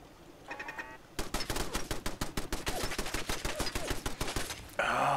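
Auto turret gunfire in Fallout 4: a long, rapid, even burst of loud automatic shots rattling on for several seconds after a brief opening clatter, with no talk over it.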